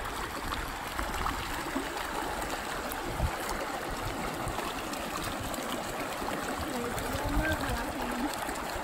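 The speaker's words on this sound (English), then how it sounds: "Here's Angie about to walk across the Mississippi River, the only place in the entire river where you can walk across it." Shallow water streams and trickles at the source of the Mississippi River at Lake Itasca, a steady close babble with faint voices and movement nearby.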